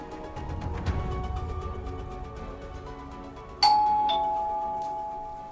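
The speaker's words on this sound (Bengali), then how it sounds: "হঠাৎ কলিং বেল বাজার শব্দে ভাবনার জগৎ থেকে বেরিয়ে আসে" A doorbell rings with a bright two-tone ding-dong chime that sounds suddenly and rings out, following a quieter stretch of soft background music, loud and close.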